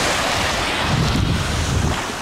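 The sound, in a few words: gentle sea surf with breeze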